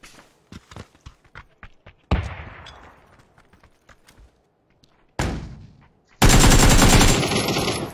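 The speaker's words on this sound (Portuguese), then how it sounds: "Chegou aqui o cara me atirando?" Gunfire in a shooter video game: bursts of rapid automatic shots, sharp single cracks and a sustained loud volley near the end, close and harsh, with no talk.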